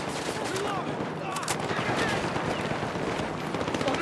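Heavy machine gun fire in the Battlefield 6 video game campaign, dense continuous rattling bursts mixed with other gunfire and battle noise, loud and close, with faint shouting underneath.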